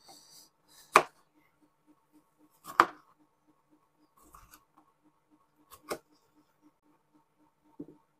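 Knife cutting washed tomatoes roughly for homemade ketchup, a few sparse, sharp chops spaced seconds apart over a quiet background with a faint ticking hum and no voices.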